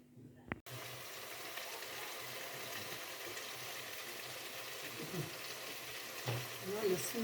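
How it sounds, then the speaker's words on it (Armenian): Food frying in a pan during home cooking, a continuous close sizzle with stirring scrapes and a brief clunk at the start, steady throughout. "էսի պիտի մի փոքր տապակվի"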